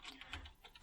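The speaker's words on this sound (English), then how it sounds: "So I'll just type the whole thing out." Quick keystrokes as code is typed on a computer keyboard, a soft, steady patter of clicks heard close and alone.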